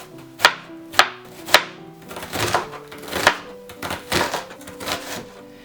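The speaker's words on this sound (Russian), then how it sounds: "нарезаем как можно тоньше." A knife cuts red onion as thinly as possible on a board, starting with three sharp separate chops and then moving into quicker, softer rhythmic slicing close up.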